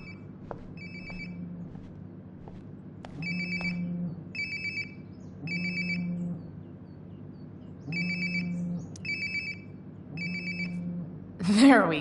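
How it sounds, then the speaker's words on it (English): A phone ringtone in the video game Life Is Strange: Before the Storm chimes nearby in regular repeated bursts over a low ambient hum, with a voice briefly heard near the end. "Sounds like my phone is definitely nearby."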